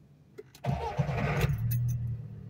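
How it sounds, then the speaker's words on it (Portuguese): A car that had been stalling cranks briefly after a couple of clicks, then catches and settles into a steady idle, heard close up with no talk. "Ó, vou ligar o carro."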